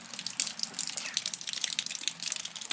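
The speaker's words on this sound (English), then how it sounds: "So basically, it's absolutely pouring." Heavy rain pours down outdoors on a warm, humid day, a dense, steady hiss of water with splashing bursts and no talk.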